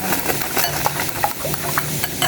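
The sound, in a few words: beating and mixing eggs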